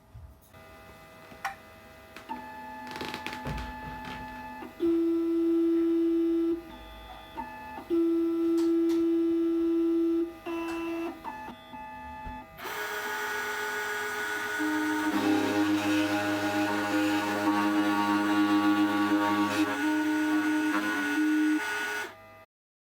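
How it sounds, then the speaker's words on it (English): A Silca RW4 key machine cuts a VW Caddy key with a close, mechanical whine in repeated on-off bursts, then a louder continuous grinding run that stops abruptly near the end. "So firstly we're going to cut the key."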